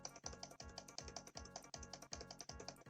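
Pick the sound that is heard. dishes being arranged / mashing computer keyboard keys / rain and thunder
mashing computer keyboard keys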